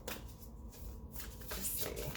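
Tarot cards shuffled by hand at close range, soft papery riffles and slides in short bursts over a quiet background.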